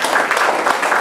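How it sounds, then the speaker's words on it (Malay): Applause from an audience greeting a speaker at an indoor talk, a steady dense clatter of clapping close by that fills the short moment without pause. "Bagi tepukan pada gold writer Saudara Yunus."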